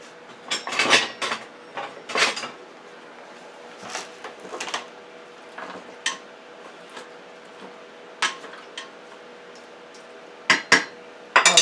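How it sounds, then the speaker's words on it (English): Turmeric rice in a pot is stirred with a spoon, giving sparse clinks and scrapes against the metal at irregular intervals over a quiet background. "Let me stir this up first."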